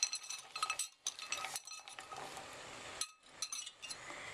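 Frozen cranberries tumble into a pot of boiling sugar water for a cranberry relish, making close, scattered clinks and rattles against the metal with bubbling between them.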